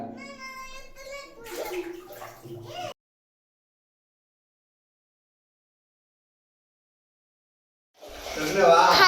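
Water pours into a drum during household tank cleaning, a rushing, splashing stream heard in two bursts with a silent gap between, alongside talk at the start.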